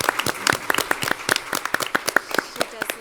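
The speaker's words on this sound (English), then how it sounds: "Can we all give Anne a big round of applause?" Scattered applause at an epilepsy mortality conference, a small group clapping unevenly, with distinct individual claps heard close by rather than a dense roar.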